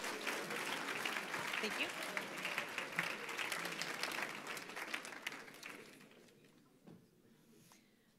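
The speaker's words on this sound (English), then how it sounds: "If you'll give her a round of applause for all she does for us." Applause from an audience at a school senior awards chapel, a dense steady clapping that fades away near the end while a voice briefly speaks.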